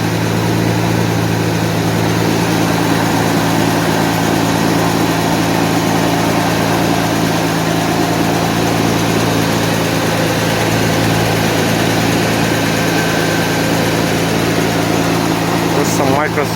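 A 1991 Mercedes 190E engine idles loudly and steadily, with a constant low hum and busy ticking from the valve lifters; a small exhaust leak is present, and a brief click sounds near the end.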